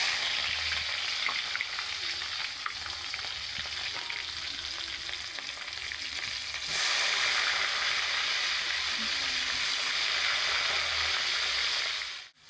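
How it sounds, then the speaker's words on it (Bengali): Onion fries in a pan for a chicken dish, a loud, continuous close-up sizzle with faint stirring scrapes that grows a little stronger midway and runs steadily to the end. "একটু লাল লাল করে পেঁয়াজটা ভাজা হবে"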